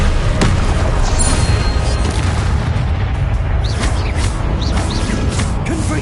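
A Confringo spell explodes in the video game Hogwarts Legacy with a deep, rumbling boom that opens with a sharp crack and then rolls on as a dense, low roar for several seconds.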